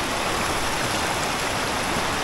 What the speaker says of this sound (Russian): Приходим к следующей воде. Ручей Сахновка.